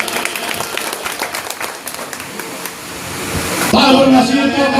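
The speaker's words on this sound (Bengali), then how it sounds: "সবাই জোরে করতালি।" A crowd at an outdoor commemoration gathering in Talepur claps to welcome a guest, a dense wash of applause that fades as an amplified voice begins speaking over a loudspeaker.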